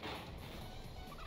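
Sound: Pokemon cry sounding like a turkey gobble, from a video game

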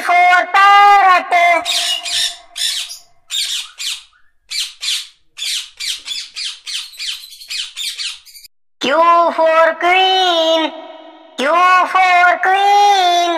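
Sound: parrot squawking

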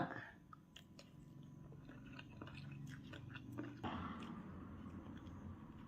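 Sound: eating papaya salad (som tam)

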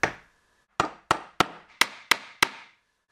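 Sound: hammering wooden dowels into position

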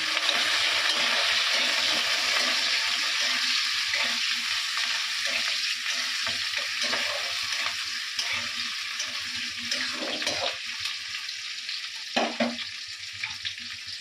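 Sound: potatoes frying in a pan

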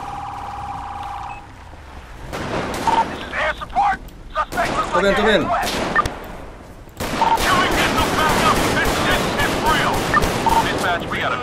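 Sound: gunfire in GTA V video game

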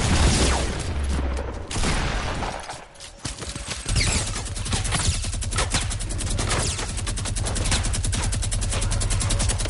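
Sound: heavy AR assault rifle gunfire from a video game

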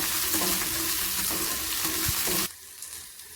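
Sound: curry leaves, green chili and garlic sautéing in oil

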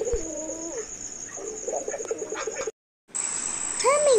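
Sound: pigeon cooing

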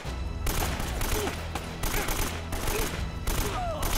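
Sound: gunfire shooting through a pillar in video game Uncharted Drake's Fortune

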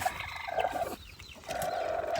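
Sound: hen clucking

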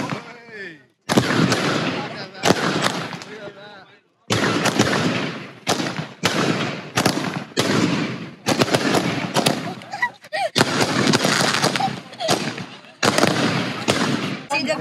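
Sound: fireworks shots going off

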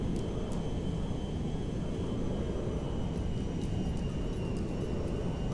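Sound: military airplane flying in GTA 5 video game

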